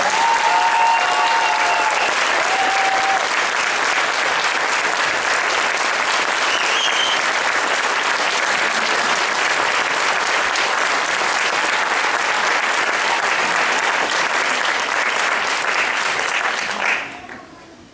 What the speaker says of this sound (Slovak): myslím, že si zaslúžia ešte jeden potlesk